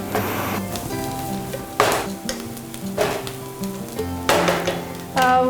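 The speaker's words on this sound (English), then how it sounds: "make sure that the onions and the garlics are fried properly" Onions and garlic with chili flakes fry in a pan with a loud, continuous sizzle, broken by several sharp clanks and scrapes of stirring close by.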